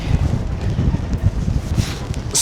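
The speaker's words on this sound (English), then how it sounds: "this wind has been absolutely insane" Strong, gusty wind buffeting the microphone in open country on a windy morning at a gravel cycling race camp, a continuous low roar with a few sharper rustles and no talking.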